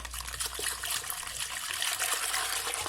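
Warm milk is poured gradually into brioche dough. A soft, close trickle of liquid runs steadily for about three seconds.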